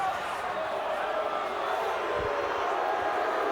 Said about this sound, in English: Chorus of boos here at Toyota